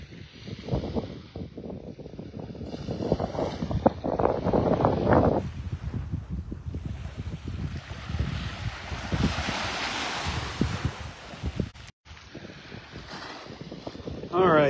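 Wind blows across a beach at Delnor-Wiggins Pass in North Naples, Florida, a gusty rumble and microphone buffeting over surf, with faint voices at times.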